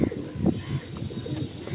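Domestic pigeons, a Madrasi male and a female kept for sale, give low soft coos in short repeated bursts, close by, with faint higher chirps above and background noise throughout.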